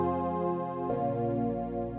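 Synth keys from a Spire synthesizer preset, used in a chill Afrobeat track, play sustained tonal chords that change once partway through and ring on alone at a steady, fairly loud level.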